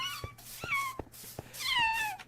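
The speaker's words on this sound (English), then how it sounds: "listen to the kittens" Kittens in a Minecraft Skyblock game give several high, wavering meows, close and fairly soft, mixed with sharp clicking taps between the cries.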